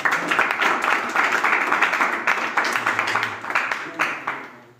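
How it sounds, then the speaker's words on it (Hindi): A classroom of students claps for a classmate who answered in English, a dense, steady patter of many hands that runs close and fairly loud for the whole stretch, with a few brief voices mixed in. "ताली बजाओ"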